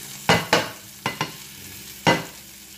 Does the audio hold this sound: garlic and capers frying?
yes